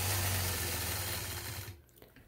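A sewing machine quilts a package quilt block, a brief steady motor whir that runs then stops abruptly, leaving a faint click.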